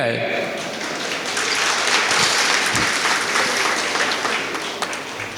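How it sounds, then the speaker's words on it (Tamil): Applause from a crowd at a Ramadan iftar gathering, a steady close wash of many hands clapping with voices mixed in underneath. "இப்படிதான கைதட்டுறீங்க"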